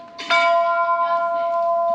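A single bell at an old jail is struck once, ringing out loud and close, then sustaining a rich humming tone that slowly fades.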